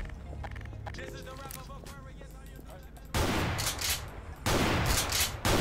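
Gunfire rings out in the Garry's Mod video game, starting with a mix of quieter game sounds and then giving way to two loud, sustained bursts of rapid shots that fill the scene.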